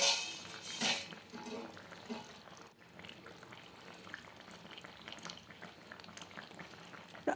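Pabda fish curry with potato and eggplant simmering in a pot, a soft, continuous bubbling boil close up, with faint clinks near the start.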